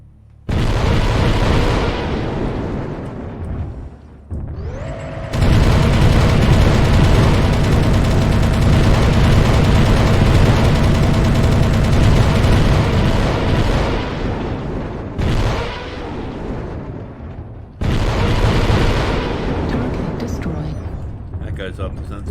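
Heavy mech weapons on a Catapult CPLT-C2 in MechWarrior Online fire in a chain, producing loud sustained bursts and booms broken by brief gaps, with game sounds layered throughout.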